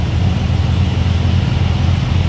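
A 1970 custom VW Karmann Ghia engine runs steadily at idle, a close, continuous low rumble with an even, unbroken level and no voices.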